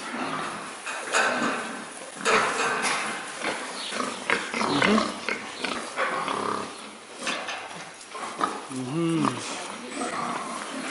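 On a farm in France, pigs grunt and squeal around feeding time amid a noisy, busy background, while people talk in French over the animals throughout.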